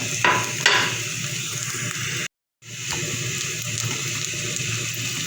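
Onions, garlic and carrots sauté in a pan with a steady close sizzle and a few stirring scrapes, interrupted by one brief silent gap.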